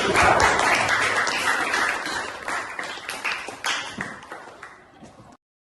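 Students in a school classroom clap their hands together in a burst of applause that starts strong and fades out over several seconds, without any talk.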